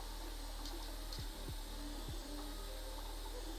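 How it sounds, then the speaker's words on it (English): An AnkerMake M5 3D printer runs with a steady low hum and fan noise, while several short rising motor whines from its moving parts repeat every half second or so. "the main sounds that this printer has, motion a little bit, but the loudest aspects of it are retraction is very loud"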